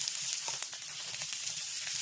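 Ginger-garlic paste and green chillies frying in a kadai make a steady, fairly soft crackling sizzle with small pops, heard alone with no talking.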